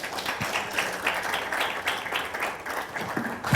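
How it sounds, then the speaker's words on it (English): Steady applause from an audience fills the room, a dense wash of many hands clapping at once, continuous and fairly loud. "A round of applause, please."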